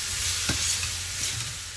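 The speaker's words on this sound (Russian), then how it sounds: "Обжариваем морковку с луком приблизительно 3-5 минут." Carrots and onions sizzle steadily in a hot cauldron over a campfire, with a soft scrape of stirring partway through; close, constant hiss and no voices.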